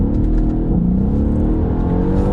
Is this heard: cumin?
no